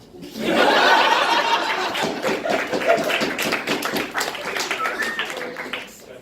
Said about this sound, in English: thank you for all the clapping and the snapping